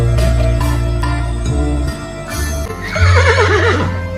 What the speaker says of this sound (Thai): ม้าใช่ไหมคะ